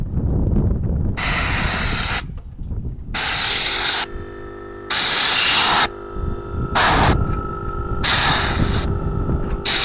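Compressed air blasts out in repeated loud hissing bursts, about six of them with short pauses between, blowing dirt out of the roof of a van outdoors.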